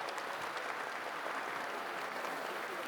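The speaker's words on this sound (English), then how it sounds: "Can we have a round of applause for her, ladies and gentlemen," Dense, steady applause from an audience at a cancer awareness marathon event, a continuous even patter of many hands at moderate distance with no clear voices.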